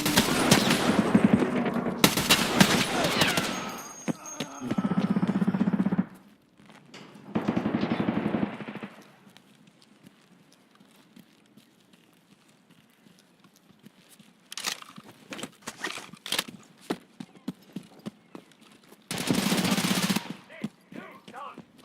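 Bursts of video-game gunfire from a shooter turret, loud rapid volleys separated by quieter stretches, with a brief voice near the start.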